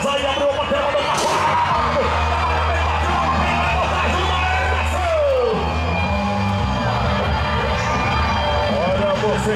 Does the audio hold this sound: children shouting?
yes